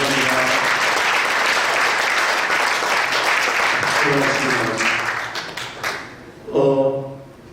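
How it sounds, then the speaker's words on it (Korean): Attendees at a Korean church general assembly celebration give encouraging applause, a dense wash of clapping that fades after several seconds as a voice takes over. "여러분 큰 격려 박수 한번"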